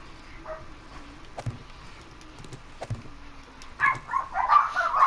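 Dogs barking at night in the distance, a few faint scattered barks early on, then a louder cluster of yips and barks toward the end over quiet background.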